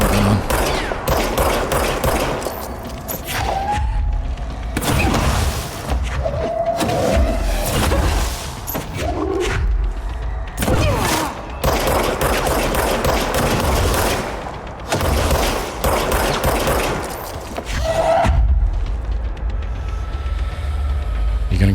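Repeated loud bursts of gunfire from a weapon in the game Control, separated by short pauses, with someone talking between and over the shots.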